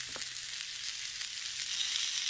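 Steady high-pitched sizzling of food frying on a hot plate atop a dry-stacked single-brick box rocket stove, continuous and fairly loud throughout, with no talking.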